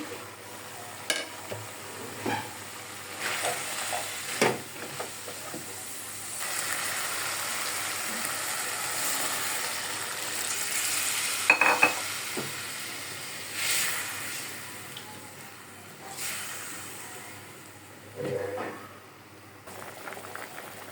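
Chicken being fried in a pan with onions and firm vegetables for a chicken stew: a steady sizzle and hiss runs throughout, broken by occasional stirring scrapes and clatters, with no talking.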